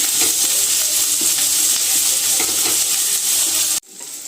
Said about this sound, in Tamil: நல்லா வதக்கிக்கணும். ஆனியன் சாஃப்டாகவே இருக்கும்.